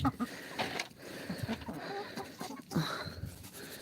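Several chickens cluck close by in short, irregular bursts, with rustling and a bit of faint background noise between calls.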